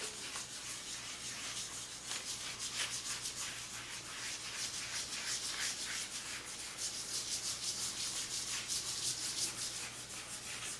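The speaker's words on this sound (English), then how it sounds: "Rub it with the spoon." A spoon is rubbed steadily over paper laid on an inked printing block, giving a continuous close scratchy swishing in quick repeated strokes with no talk.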